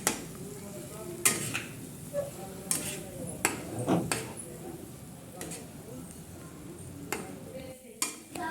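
Grape ladoo mixture with tutti frutti being stirred in a pan, giving soft scraping strokes and occasional sharp clicks of the spoon at a steady pace, moderately close under a low background hum.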